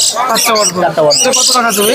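A parrot at the Mirpur 1 bird market in Dhaka gives loud, close, harsh squawking calls in quick overlapping bursts.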